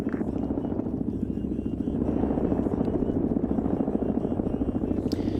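Helicopter in the video game Arma 3 Zeus, a steady rotor thump and engine drone that swells slightly midway and holds throughout, with brief speech underneath.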